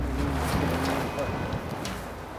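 Steady outdoor wind in British Columbia rumbling against the microphone, a continuous low roar with faint voices murmuring underneath.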